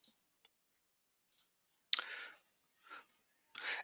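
A computer mouse clicks several times at close range, sharp isolated ticks spaced irregularly with quiet gaps between them, and no voices.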